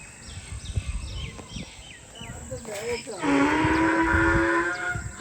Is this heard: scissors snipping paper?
no